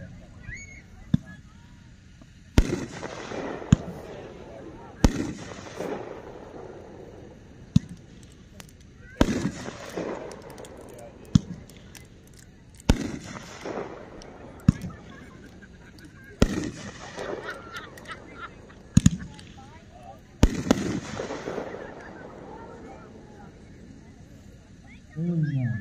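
Four Seasons Seven Shot Watermelon Moonshine, a consumer firework cake, fires seven sharp shots spaced a few seconds apart, each crack followed by a crackling, fizzing burst.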